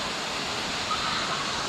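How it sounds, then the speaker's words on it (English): Waterfall in the Lower Dells canyon at Matthiessen State Park, a steady broad rushing wash of falling water, fairly close and unvarying, with no voices over it. "This is the waterfall I was talking about down here at Matthiessen."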